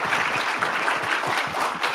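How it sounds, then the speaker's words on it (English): A conference audience applauds panelists at the end of a live StarEast 2024 session: a steady, dense wash of many hands clapping at once, fairly even in loudness throughout. "Let's give them a round of applause."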